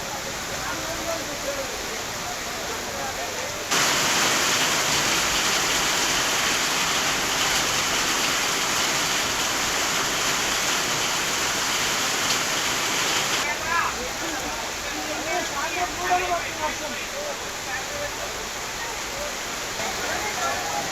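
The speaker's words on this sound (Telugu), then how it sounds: "పలు ప్రాంతాల్లో వర్షం అదరగొట్టేస్తోంది" Heavy rain in Hyderabad pours in a dense, steady hiss that grows louder for several seconds before easing back to a lighter patter.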